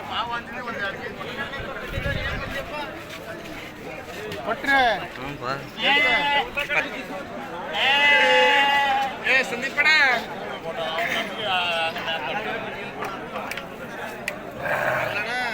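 Sheep bleating at the large Tuesday sheep market in Harihara, wavering cries rising over continuous crowd chatter and people talking nearby.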